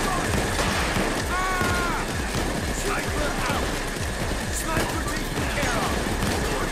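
Steady, evenly spaced gunfire from the heist shooter Payday 2 during a fight with snipers, continuous and fairly loud over a hissy background, with faint game voices and effects mixed in.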